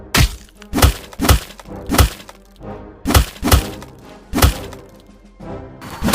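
Men beating someone up land a series of heavy, close, thumping blows, about ten sharp impacts in an irregular rhythm with short gaps between.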